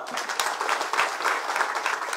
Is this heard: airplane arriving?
no